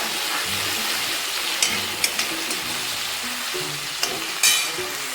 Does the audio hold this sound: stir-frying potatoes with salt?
yes